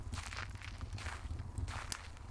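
Slow, unhurried footsteps fall in a steady rhythm, soft and somewhat distant, with a faint echo over low background hum.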